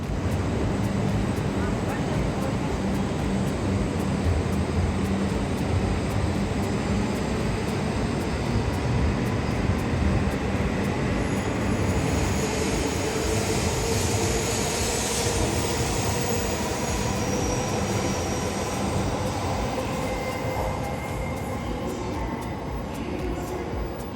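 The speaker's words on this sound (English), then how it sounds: "the train pair pulling away from the platform to continue north towards Hokkaido" A Shinkansen Hayabusa train pair pulls away from a station platform heading north toward Hokkaido, a steady loud rumble and broadband rush that holds throughout with a brief swell of high hiss midway.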